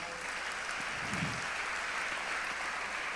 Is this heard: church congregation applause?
yes